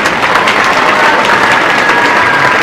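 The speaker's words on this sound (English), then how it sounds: "Can we give them a round of applause?" An audience applauds a school band at a winter concert, a loud, continuous patter of clapping with faint crowd noise beneath.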